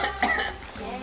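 A child gives a short cough or two, brief and close, mixed with a bit of voice.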